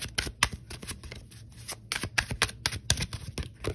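Tarot cards being shuffled by hand, a quick run of crisp riffling slaps and flutters, close and fairly loud, with no talking.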